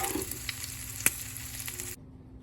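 Shrimp frying in a pan on low heat gives a steady, soft sizzle with a small pop near the middle, heard alone and close up before it cuts off abruptly.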